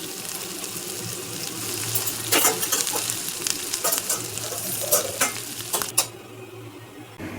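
Chicken cooking in a pan with ginger and garlic gives a steady, close sizzle and frying hiss, with occasional stirring scrapes and utensil clinks against the pan; no one speaks.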